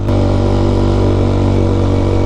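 Honda TMX 125 motorcycle engine pulling steadily in second gear up a foggy highway toward Baguio, a loud, close, continuous drone with a strong low hum and no voices.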